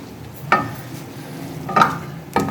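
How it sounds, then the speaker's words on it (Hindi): Butt karahi with tomato paste fries in desi ghee, a soft sizzle under three distinct metallic scrapes of a spoon against the karahi, spaced about a second apart. "तो बट कढ़ाई में या तो मक्खन से भूनते हैं या देसी घी से भूनते हैं बनाते हैं।"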